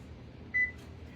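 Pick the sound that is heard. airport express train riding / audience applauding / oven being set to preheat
oven being set to preheat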